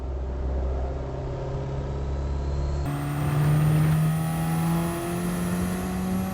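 A race car engine drones in Gran Turismo 7 on the Brands Hatch circuit, a steady loud tone that shifts gear partway through and swells as the throttle opens, with no talk over it.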